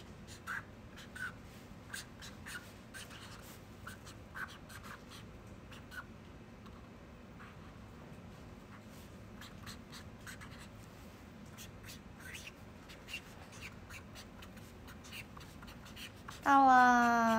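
A pen scratches out a star on paper in short, close strokes with small pauses between them, soft and steady over a faint room hum, and a brief chime sounds at the very end.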